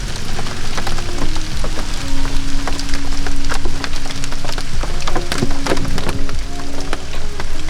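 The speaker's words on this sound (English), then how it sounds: "we got a little rain" Rain falls steadily across a golf course, a dense hiss peppered with sharp drops and patters, with a low hum running underneath.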